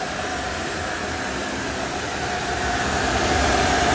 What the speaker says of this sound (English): As you can hear the static noise in the background, that is called pink noise